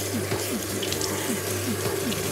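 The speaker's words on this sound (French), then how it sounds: "je vais prendre un torchon propre que je vais mouiller" Kitchen tap water runs steadily and loudly onto a clean cloth towel being soaked, a continuous close splashing stream with gurgling ripples throughout.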